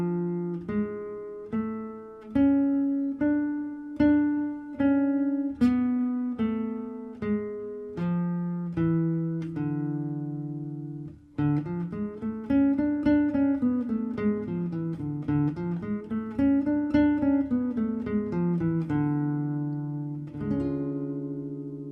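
A guitar plays the Raag Madhuwanti scale up and then back down as a steady run of single plucked notes. Each note rings clearly, the run is close and even, and there is no talking.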